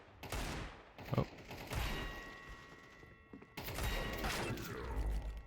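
Gunshots in an aim-training video game, a few sharp reports spaced with short pauses between them over a steady layer of game noise and mechanical clatter, with no talking.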